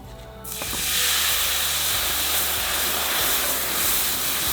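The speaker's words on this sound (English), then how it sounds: "Deglaze with some Kentucky bourbon ale." Kentucky bourbon ale hits a hot Dutch oven at a forest campsite and bursts into a loud, steady steaming hiss and sizzle that holds throughout, with no talk.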